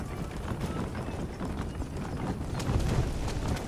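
Hooves of a galloping horse in Red Dead Redemption, a quick steady clip-clop pounding along at a racing pace, moderately close and fairly quiet, running without a break.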